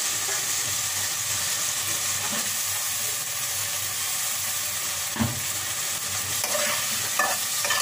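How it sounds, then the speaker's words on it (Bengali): Cauliflower stir-fried in a hot pan gives a loud, continuous hissing sizzle close up, broken now and then by a faint scrape of a spatula. "তো এখন তো ফুলকপিটাও দিয়ে দিচ্ছি।"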